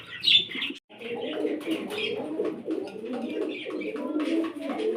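Breeding pigeons at a pigeon farm coo steadily in a low, rolling chorus, with brief higher chirps and a faint flutter of wings, fairly close.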